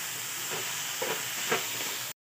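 Coconut barfi mixture with milk sizzling in a pan over medium gas, a steady soft hiss with a few faint bubbling pops, alone and close.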